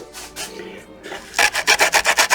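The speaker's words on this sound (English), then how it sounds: "And then just sand it nice and flat." A small wooden part for a Caldercraft HMS Victory model ship rubbed flat on sandpaper, a few soft scrapes then a quick run of about seven rhythmic, close, loud back-and-forth strokes.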